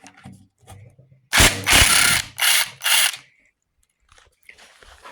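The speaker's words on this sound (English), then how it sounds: "I am using an impact driver to remove the bolts" An impact driver removes engine bolts during an engine rebuild, with three loud close bursts of rattling hammering, each about half a second long, in a quiet garage.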